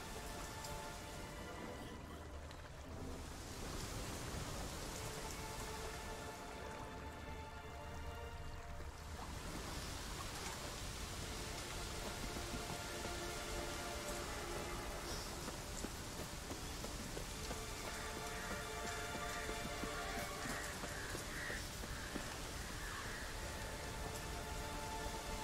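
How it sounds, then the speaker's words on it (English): Steady rain falling in The Witcher 3: Wild Hunt, a soft continuous hiss of drops pattering on surfaces, quiet and unbroken, with no voices. "Looks like rain."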